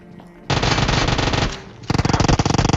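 Automatic gunfire in a battle royale game fight at Pochinki, finishing a knocked enemy: a long sustained burst, a brief pause, then a second rapid stuttering burst, loud and close.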